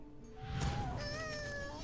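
A heavy pet cat lets out a single drawn-out, rising-and-falling meow, close and clear, with a soft rustle just before it.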